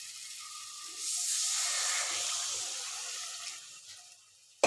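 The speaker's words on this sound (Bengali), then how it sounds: "গরম জল দিয়ে দেবো।" Hot water pours into a cooking pan for a fish and potato curry, making a soft hissing, splashing rush that rises after a second and tapers off before a sharp knock at the end.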